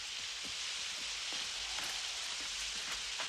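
Rain in a children's animated story falls steadily as a dense, even hiss, with scattered soft droplet taps, moderately quiet and without speech.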